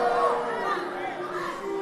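A livestream crowd chatters and reacts in a steady, diffuse murmur of many voices that holds at a moderate level throughout.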